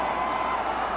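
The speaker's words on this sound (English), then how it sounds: "Oh, and this crowd is going wild." A packed arena crowd roars continuously and loudly as the St. Louis Hawks clinch the 1958 NBA championship over the Boston Celtics, a dense wall of cheering close around.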